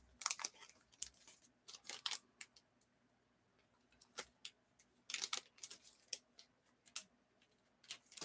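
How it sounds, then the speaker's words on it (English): A plastic bag holding slipcovers is wrestled open during an unboxing, with bursts of crinkling, tearing and rustling in irregular clusters, close and fairly quiet, with no speech. "How many YouTubers take to open a plastic bag?"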